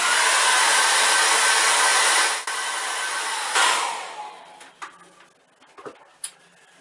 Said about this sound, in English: we need to let that dry now, or use a hairdryer on it